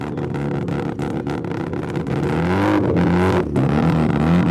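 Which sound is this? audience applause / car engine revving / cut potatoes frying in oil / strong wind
car engine revving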